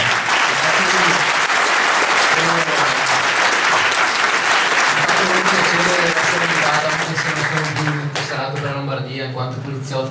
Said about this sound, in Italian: E noi prima però ti facciamo un applauso ma col cuore